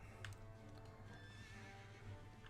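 A horse neighs and its hooves clip-clop in the video game Dragon Quest XI, with a steady, moderately loud hoof rhythm over background game music.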